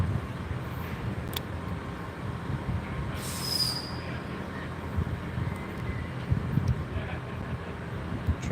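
A train idles at a station in Gloucester with a steady low rumble, a brief high squeal of wheels rising above it, and faint voices nearby.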